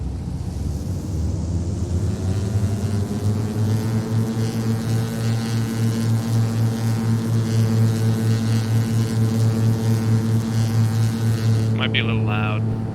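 Propeller aircraft engine run up to full takeoff power in a flight simulator game, a loud steady droning hum with strong harmonic tones that stays constant and close throughout, with brief speech near the end.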